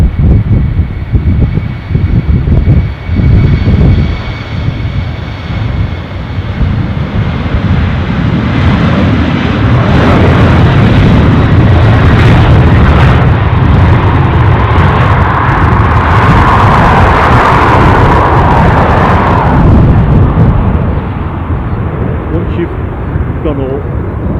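Jet engines of a FedEx Boeing 767 at Dublin airport, a steady loud roar that swells and peaks midway, continuous throughout with people talking over it.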